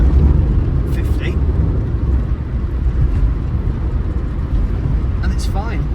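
Rover R8 214 Si car accelerating toward 50 mph, a steady loud low engine and road rumble filling the cabin throughout, with a couple of brief higher clicks or squeaks.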